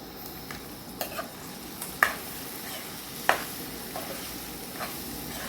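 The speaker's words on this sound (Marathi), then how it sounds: "त्याला छान असं फिरवून घेणार आहे" Chilli flakes stirred into frying vegetables, potatoes and tinda, in a pan, with a low steady sizzle under a few sharp clicks of the spoon striking the pan.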